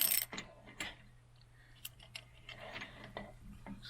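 A ratcheting socket wrench snugs down a trailer hub nut to seat the bearings, with quiet irregular clicks of the pawl over a low steady hum, close by.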